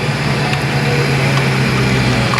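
A Fox body race car's engine idles steadily, a loud, continuous low rumble with a strong hum and no other sounds, held unchanged throughout.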